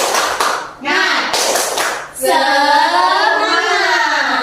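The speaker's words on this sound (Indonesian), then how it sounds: "kita tepuk semangat dulu" Children in an Indonesian elementary science classroom do a rhythmic group clapping cheer, loud and close, in patterned bursts with chanting voices between and over the claps.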